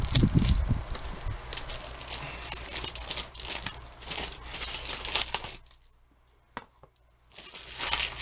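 Close crinkling and crackling of plastic wrapping being cut with a knife and torn off a Blu-ray case, crumpled, with a brief quiet pause before more rustling.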